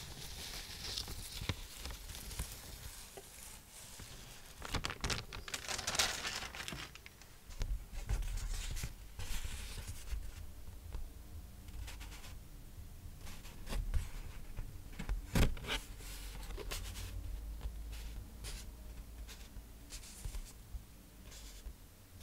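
Paper crinkles and rustles close up as a vision chart housed in a paper sleeve is handled, in irregular soft scrapes and crackles with a few sharper crunches.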